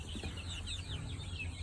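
Chickens cluck and chatter softly inside a coop holding around sixty-four birds, a steady busy murmur of overlapping fowl calls with no talking.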